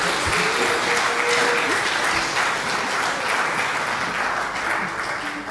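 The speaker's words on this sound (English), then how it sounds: "May you kindly give them a big, big round of applause." Conference audience at a partners' welcoming session applauding steadily, a dense, sustained clapping that fills the whole stretch at a fairly even level, with a faint voice briefly audible beneath it.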